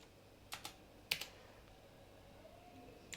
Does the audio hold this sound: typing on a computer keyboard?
yes